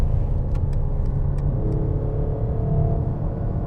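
A 2021 Mercedes CLS 53 AMG engine and exhaust pull hard under acceleration, a loud, steady close-up rumble with sharp pops and crackles early on, no voices over it.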